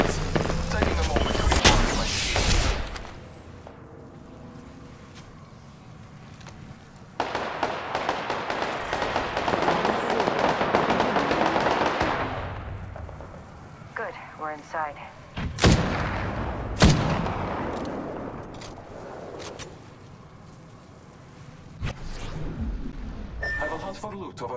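Gunfire in the Apex Legends video game, with bursts of shots and sharp cracks, some near and loud, others fainter, spread over a long stretch with a sustained rattling volley in the middle and a voice speaking at times.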